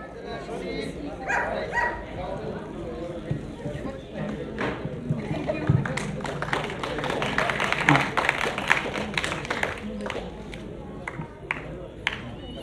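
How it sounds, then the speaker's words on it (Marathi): An audience claps at a prize-giving during a fancy dress dog show in Latur, with a burst of close applause over crowd murmur, while a voice speaks over the PA and a dog barks nearby. "तर यांचं जोरदार टाळ्या स्वागत करण्यात यावं"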